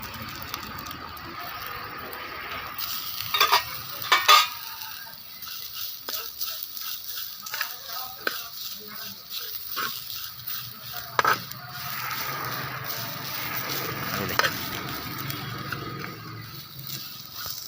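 Grated coconut being stirred into frying drumstick-leaf chammanthi in a pan, with a soft ongoing sizzle and scattered scraping, rattling spoon strokes, a few louder clatters, heard up close.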